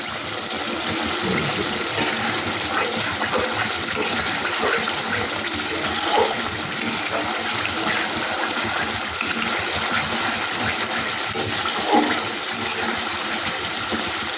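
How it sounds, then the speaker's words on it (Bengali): Water is poured into a cooking pan of frying spices and oil, giving a continuous loud rushing gush that lasts the whole stretch with small splashy variations. "এবার আমি একটু জল দিয়ে দেবো"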